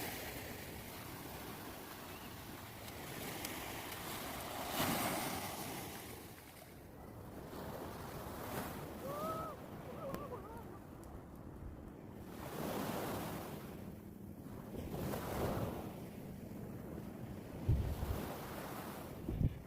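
Sea waves wash onto the shore at Bolinao, Pangasinan, in repeated soft surges over steady wind and microphone buffeting, fairly distant and quiet with no talking.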